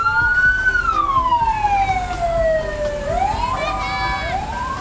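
A toy fire truck siren wails, sweeping down and back up in pitch, loud and close, with a slightly thin, toy-like electronic tone.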